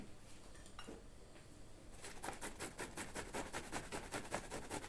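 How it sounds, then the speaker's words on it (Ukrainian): Boiled sausage rubbed against a coarse grater gives a quick, regular rasping scrape, faint and close, starting after a quiet moment and repeating in an even rhythm to the end. "Натирати ковбасу вже будемо на більш крупнішій тертості, на такій."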